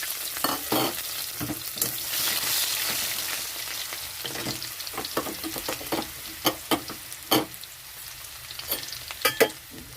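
Crushed garlic and dry chilli frying in mustard oil, a steady close sizzle and crackle with repeated scraping stir strokes of a spoon against the pan; no talking.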